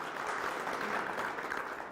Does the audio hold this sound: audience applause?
yes